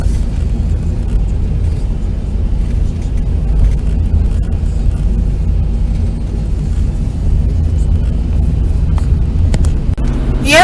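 Steady low road rumble from inside a moving car, a continuous engine and tyre drone with no talking, holding even loudness throughout.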